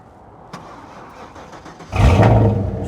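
A Ford SN95 Mustang engine cranks and catches: quiet background with a faint click, then a sudden loud start near the end, the engine roaring up and settling into a rough running note.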